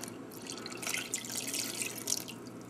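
Water pours in a steady, close trickle into bread dough made from hard red winter and soft white spring wheat, with faint dripping splashes and no voices.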